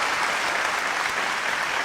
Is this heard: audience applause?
yes